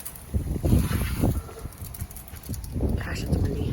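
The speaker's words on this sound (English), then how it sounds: "gosh, it's windy." Gusty wind buffets the microphone, with low rumbling bursts rising and falling over several seconds.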